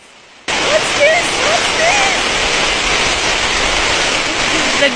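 Heavy rain pours onto a flooded camping tent, a loud, steady wash of broadband noise that starts abruptly and continues unbroken to the end.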